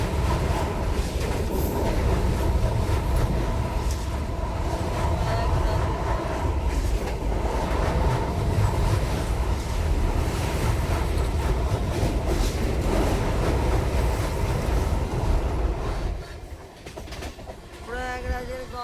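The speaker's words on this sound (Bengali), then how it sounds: "নদী পেরিয়ে যাচ্ছে আমাদের ট্রেন হাওড়ার দিকে" A passenger train heading toward Howrah crosses a river bridge on the plains, its steady loud rumble and clatter running continuously before dropping and thinning near the end.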